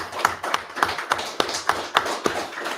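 A church congregation clapping hands together in a steady, even rhythm, about three claps per second, bright and close with a roomy ring, and no talk over it.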